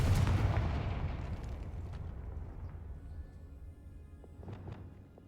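A Confringo explosive spell going off in Hogwarts Legacy: a loud booming blast at the start that rolls off into a long rumbling decay, with a few faint crackles near the end.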